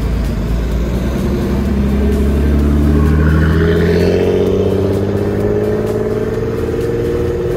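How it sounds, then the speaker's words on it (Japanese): Nissan Skyline with an RB engine, dual-exit muffler and Spoon upgrades, at a Skyline car meet, revving up in a rising sweep and holding a loud, raspy, steady drone close by, with no talk. "RB の音めっちゃいいね。"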